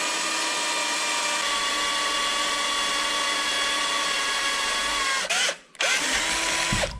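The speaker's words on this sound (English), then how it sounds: "That's one of the aggravating things I hate when you're drilling and the drill catches." Cordless drill boring into the rusty rocker panel of a Mercury Sable station wagon, a loud steady whine held for about five seconds, then cutting out briefly as the bit catches and spinning back up.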